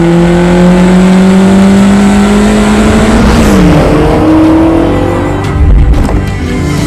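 A Lotus Esprit V8 sports car engine revs loud and close, its pitch climbing steadily through a long pull before dropping and settling, with a burst of noise near the end.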